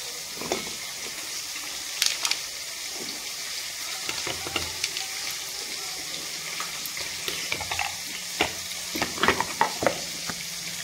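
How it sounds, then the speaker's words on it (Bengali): Pieces of katla fish sizzle steadily in hot oil in a pan for the whole stretch, with scattered crackles and pops and light scraping as they are moved. "সুন্দর করে মাছগুলো লাল করে ভেজে নেব।"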